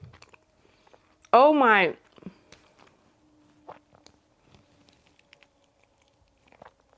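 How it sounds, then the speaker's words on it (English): Brief, close chewing of a peanut and chocolate snack, a soft crunch or two amid quiet mouth sounds, next to a short loud exclamation from a speaker. "I'm so sorry for everyone listening to me chew this"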